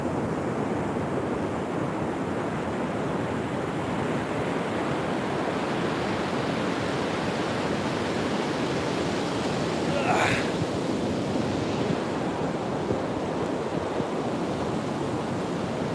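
Ocean waves wash steadily onto Agate Beach in Northern California, a continuous broad roar of surf with some wind noise across the microphone and no clear breaks.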